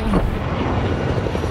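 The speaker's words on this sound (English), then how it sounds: "You getting the chopper?" Helicopter flying overhead at a campsite, a loud, steady rotor roar that fills the whole moment without letting up.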